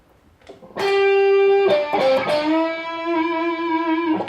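An electric guitar played through an amplifier with reverb and some distortion holds a few long, sustained notes, one sliding into the next, with a smooth ringing tail.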